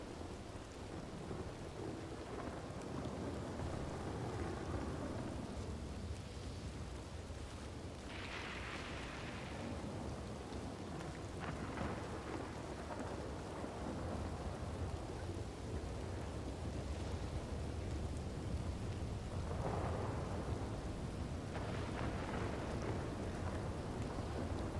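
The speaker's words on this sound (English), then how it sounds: "Beautiful storm." A video-game thunderstorm with heavy rain pours steadily throughout, broken by several loud rolling thunder claps. It plays alone, with no talking.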